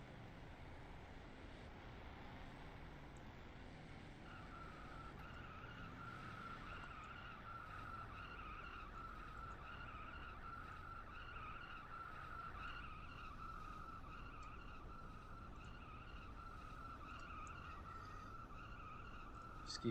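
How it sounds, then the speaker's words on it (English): In a sim racing game set at the Toronto City Circuit, a car does a sustained burnout, its tire squeal wavering over a steady engine drone, heard quietly and continuously. "I know you're doing burnouts, Neb,"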